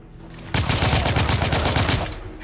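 Shotgun blasts in the video game The Order, starting abruptly and followed by a loud, rapid run of heavy gunfire and battle noise close up, tailing off slightly at the end.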